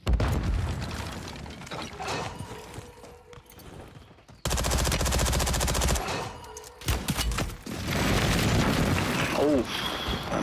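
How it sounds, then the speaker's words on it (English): Mortar blasts land during a video game battle, with dense, loud explosions and bursts of gunfire, a sharp heavy boom partway through, and a voice talking under the barrage. "that mortar got me"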